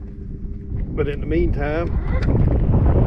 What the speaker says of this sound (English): the wind is just blowing us all around